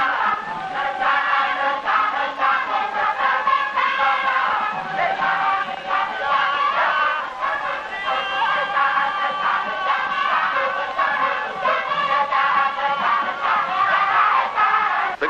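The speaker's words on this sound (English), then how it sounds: "The crowd gets more and more excited watching the play" An excited village crowd watching a Balinese ritual play, a steady loud babble of shouting and cries that keeps up without pause.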